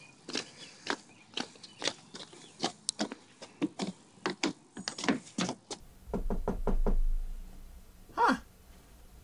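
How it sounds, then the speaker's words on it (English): Sharp, repeated knocks on a door in a room, dozens of quick raps in irregular bursts, close and clear, with a louder thud and a gasp-like sound near the end. "Somebody's knocking on the door."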